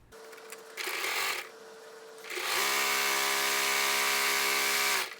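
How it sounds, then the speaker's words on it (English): A sewing machine stitches a fabric strip for a reversible table runner, starting with a short burst, then after a pause running in a long, steady, close-up whir. "I'm going to go to the machine and just sew right down that."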